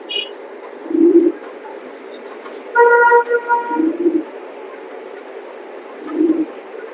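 Pigeons in a loft coo in low, throaty bursts, about three separate calls spaced a couple of seconds apart, fairly close, with a brief higher tonal sound alongside the middle one.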